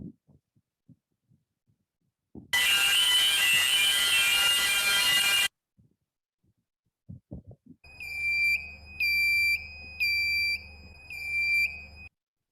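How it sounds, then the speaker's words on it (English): A cruise ship navigation bridge alarm sounds as a continuous electronic tone, then a repeating beeping pattern in short bursts, preceded by a long burst of broadband noise and scattered faint clicks. "Navigation alarm. Continuous sound inside the navigation bridge."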